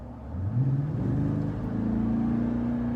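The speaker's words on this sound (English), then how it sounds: "The Borla exhaust is really quiet until you get on it, and you want to hear that exhaust note." A Toyota Tundra fitted with a Borla exhaust accelerates, its engine note climbing in a steady rising drone that settles into a sustained, fairly loud exhaust tone, heard from close by with no talking.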